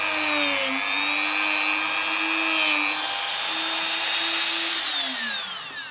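A rotary tool whines steadily, its pitch shifting slightly, while deburring a Kyosho RC clutch part. The grinding runs close and continuous, easing off near the end.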